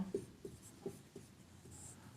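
Pen strokes on paper during a class 9 maths geometry lesson, heard as a few faint, close scratches and taps in an uneven rhythm against a quiet room, with no speech.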